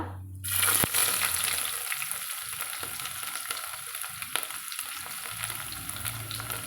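Onions hit hot oil for a mutton biryani, producing a sudden loud sizzle that settles into a steady, close frying hiss with a single sharp click near the start; no one speaks.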